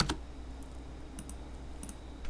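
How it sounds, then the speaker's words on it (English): Computer mouse clicking while working in Autodesk Inventor 2017 CAD software, a few quick light clicks including double clicks, faint and close over quiet room hum. "And I'm just double clicking on these to change those."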